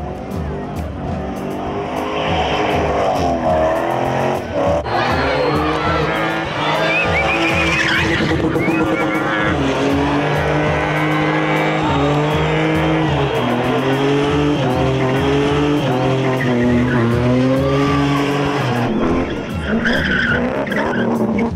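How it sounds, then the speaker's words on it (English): A car drifts and spins, its tyres skidding and squealing continuously for the whole stretch under a loud, revving engine that rises and falls, close and dominant throughout. "I'm ready when you guys are ready to drift then"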